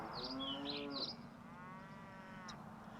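Dairy cows on an Irish grazing platform give several drawn-out moos, one overlapping another, fairly close over steady outdoor background noise.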